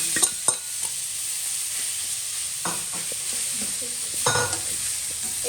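Salt-and-turmeric-rubbed fish fries in a pan with a steady, bright sizzle throughout, broken by a few close clinks and scrapes of a utensil against the pan near the start, middle and end.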